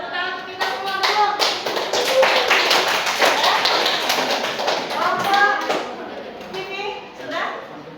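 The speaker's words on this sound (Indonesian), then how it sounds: "Udah tepuk tangan untuk kita semua dulu." A group of people applauds, a dense burst of clapping that starts suddenly, holds for several seconds and then tapers into scattered claps, with voices mixed in over it.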